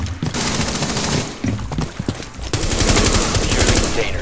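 Rapid automatic gunfire in the video game Rainbow Six Siege rattles in dense bursts, loud and close, with short gaps and a sustained volley toward the end.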